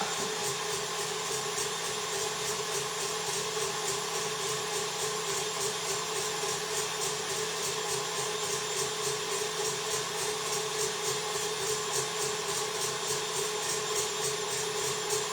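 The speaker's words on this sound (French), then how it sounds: "Il est mal réglé, vous entendez mon KitchenAid là," A KitchenAid stand mixer whips egg whites for orange upside-down tarts, a steady motor whir with a rhythmic rattling hum running unbroken and fairly close, with no talking.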